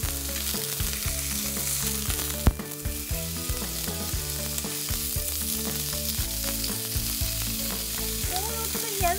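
Wagyu or Angus beef steak sizzling in a hot pan with a little oil, a continuous crackling fry close up with light stirring over background music and one sharp knock partway through.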